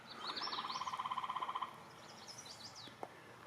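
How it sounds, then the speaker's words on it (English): Birdsong in a forest: a rapid trilled series of notes for about a second and a half, followed by scattered faint chirps and whistles at a distance. "Lovely bird sounds."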